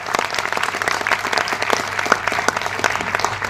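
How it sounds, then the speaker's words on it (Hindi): Seminar audience applauding steadily throughout, a dense, even wash of many hands clapping with no break. "जोरदार तालियां ठोको"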